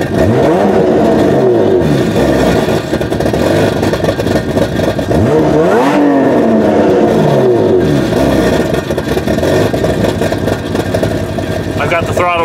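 Engine of a 2007 Hyundai Tiburon SE running on E85 fuel, heard close and loud as revs swing up and settle back toward idle, with a steady drone underneath.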